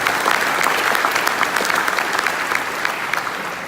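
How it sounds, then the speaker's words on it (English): A large audience at a resort event breaks into sustained applause, a dense, even wash of clapping that holds steady throughout. "Big hand for Jeff Berwick."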